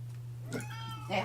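A house cat meows softly indoors, two short calls over a low steady electrical hum, with a voice faintly nearby.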